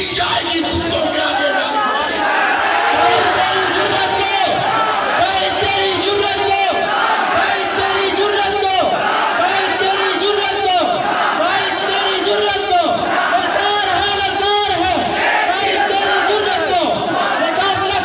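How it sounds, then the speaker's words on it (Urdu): Large crowd roaring and chanting slogans at a Friday religious gathering, a dense, loud, continuous wall of many voices with rhythmic surges throughout. "آپ نے کافی نعرے لگا لیے"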